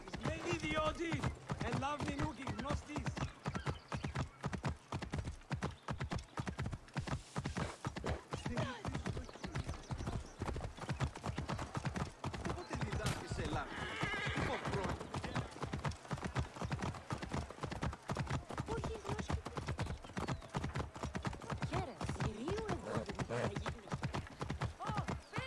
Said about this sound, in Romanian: Băi, ce cal!